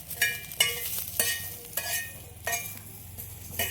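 Onion roasting on a hot tawa, with a low sizzle under a series of sharp metallic taps and scrapes from a utensil at irregular intervals, close by.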